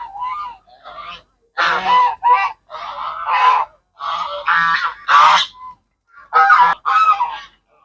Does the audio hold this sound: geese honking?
yes